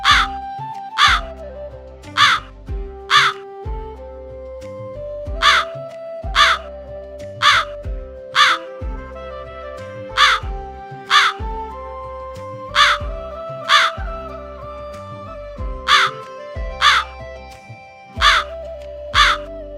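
A crow caws repeatedly in sharp, evenly spaced calls, loud and close, over a steady musical background.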